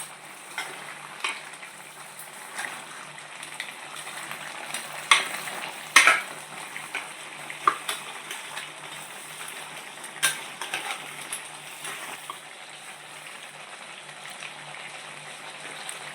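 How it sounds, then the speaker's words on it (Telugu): Crab curry masala fries in a pan. A steady, close sizzle carries on throughout, with scattered sharp clinks of a utensil stirring against the pan. "చూసారండి ఎలా ఎగుతుందో, ఇలా వేగాలి."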